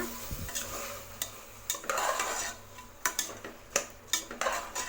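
Rice is stirred with green peas in a cooking pot, with scraping strokes and several sharp clinks of a spoon against the pan under a faint sizzle.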